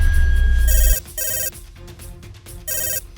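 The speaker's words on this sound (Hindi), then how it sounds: "फोन बज रहा है, मेरे बेटे का ही फोन है" Telephone ringing in short electronic bursts, three loud trills separated by pauses, preceded by a low rumble with no speech.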